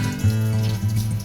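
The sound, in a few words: water poured into a pot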